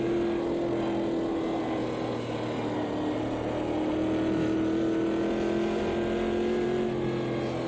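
Corvette C3 GT classic race car engine in Automobilista 2 at Bathurst, a steady droning roar under throttle that slowly shifts pitch as the car powers through a corner.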